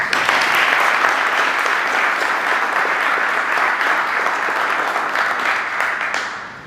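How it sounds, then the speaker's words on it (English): An audience claps steadily for contestants at a Dragon's Lair pitch event, a loud, sustained round of applause that tapers off near the end, with no talking over it. "Join me in a round of applause for the contestants"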